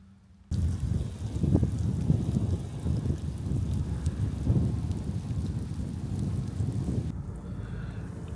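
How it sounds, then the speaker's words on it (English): Light rain patters steadily on a barn roof, heard from inside, a soft continuous hiss with faint low rumbling underneath. "It's starting to rain a little bit."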